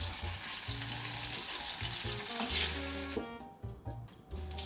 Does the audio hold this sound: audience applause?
no